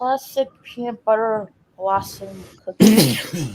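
A single sharp sneeze bursts out, loud and close, right after a stretch of casual conversation, with talking resuming just after it.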